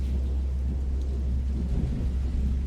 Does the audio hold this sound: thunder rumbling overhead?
yes